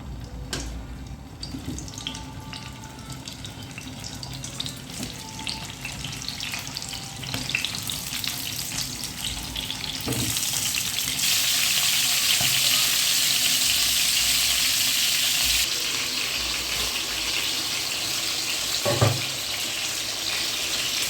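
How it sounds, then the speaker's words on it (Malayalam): Boiled chicken fries in oil in a frying pan, giving a steady crackling sizzle that grows louder and denser midway, with occasional clinks and stirring, and no voices. "ഒരു ഫ്രൈ പാൻ വെച്ച് കുറച്ച് എണ്ണ ഒഴിച്ചിട്ട് വെന്ത ചിക്കൻ ഒന്ന് ഫ്രൈ ആവാൻ വെക്കും"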